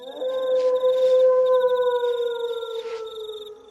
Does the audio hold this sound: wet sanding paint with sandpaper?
no